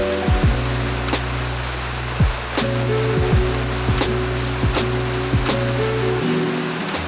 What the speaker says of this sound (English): Just as I get a chance to come out, it starts bloody raining.